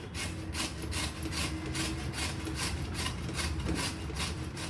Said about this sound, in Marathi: आता आपण किसून घेऊया बीटरूट